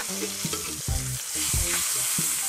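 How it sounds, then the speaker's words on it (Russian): Duck breast sizzles steadily in a hot frying pan, crackling and spitting, with a few clanks of a utensil against the pan and no voices. "мы будем их обжаривать где-то минут 8, гриловать на сковородке"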